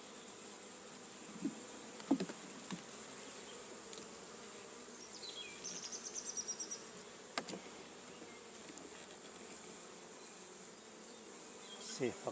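Bees drawing out foundation on a super frame inside an open WBC hive, giving a steady, fairly faint buzzing drone with a few louder passes of individual insects close by, and brief knocks from handling the frames.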